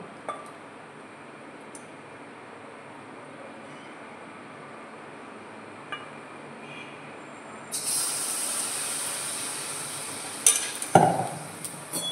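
Malpua batter made with pure ghee frying in a pan, a steady soft hiss that grows brighter and louder about two-thirds through as more batter hits the hot fat, with a few faint clinks near the end.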